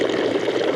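Vinegar poured onto a cast stone fountain, a brief, close, steady splashing pour.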